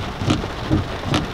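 Rain falls around a car at a car meet in Houston, Texas, heard as a steady hiss with a few louder pattering bursts, close and fairly loud.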